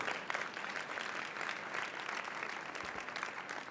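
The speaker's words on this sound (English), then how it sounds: "Let's give her a round of applause for a wonderful year." An audience applauds at the Women's Bar Association of Illinois installation, a steady dense wash of many hands clapping throughout, moderately loud and without pauses.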